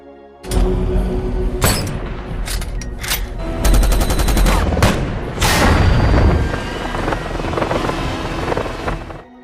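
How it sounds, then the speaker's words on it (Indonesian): Helicopter gunfire from the action film Shooter: loud bursts of rapid automatic fire over a low rotor and engine roar, with several heavy blasts and sustained volleys across the scene and no speech. "saat helikopter menghujani tembakan"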